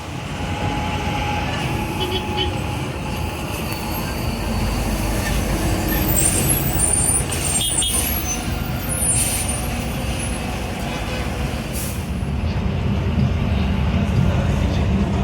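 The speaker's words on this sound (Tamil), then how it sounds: "நல்லா க்ரூஷாக போயிட்டுருக்கு வண்டி மாசா" Kerala state transport (KSRTC) bus cruising along a highway, with a steady loud engine drone and road rumble heard from inside the cabin and a few faint rattles and squeaks over the constant noise.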